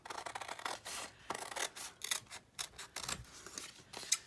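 Scissors snipping through index cards and old book pages, a run of short crisp cuts and rustles at close range, fairly quiet and unhurried.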